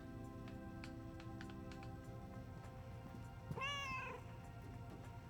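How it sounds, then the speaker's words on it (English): A cat meows once in the video game Schrodinger's Cat Burglar, a clear rising-and-falling call lasting about half a second over a steady game soundtrack with light clicks. "I'm just trying to meow."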